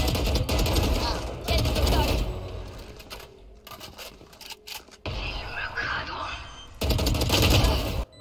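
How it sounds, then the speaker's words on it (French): Valorant match with a grenade thrown and rapid bursts of gunfire, loud dense volleys in several clusters separated by brief quieter gaps, with a voice speaking French over parts of it. "Je lance une grenade à Issa."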